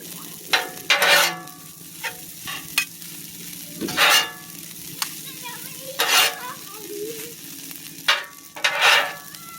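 Hibachi-style fried rice sizzles and crackles in a hot pan while a utensil stirs and scrapes it in repeated bursts, close and fairly loud, with a steady frying hiss underneath.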